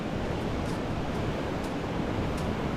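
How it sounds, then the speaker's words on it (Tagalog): Storm waves pound the shore with a steady, dense roar of surf and wind, moderately loud and continuous throughout with no distinct breaks and no voices. "Binabakbak na rin ang alon."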